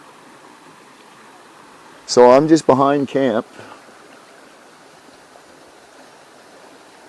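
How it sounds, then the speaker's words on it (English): A stream flows near a campsite with a constant soft rushing wash of water throughout, and someone speaks briefly midway over it. "And you guys can hear the water, and you probably can hear the flies."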